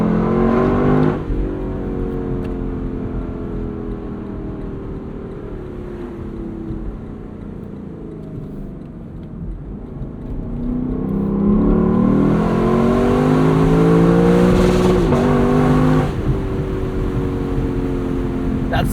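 The V8 engine of a 2024 Lexus LC 500 convertible rises and falls through quick shifts of a 10-speed transmission, heard from the cabin over wind rush, swelling into a loud sustained rev before settling again.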